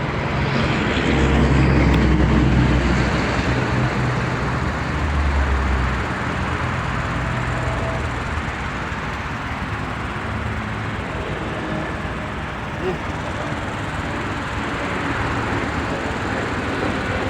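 An airplane passes overhead on the drive to work, a steady broadband engine roar with a louder low rumble early on that eases and holds on as a constant drone, with no talk.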